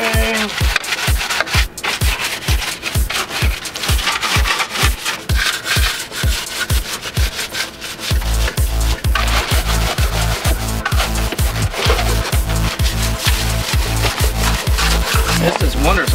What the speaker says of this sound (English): we can go ahead and use this nylon brush on everything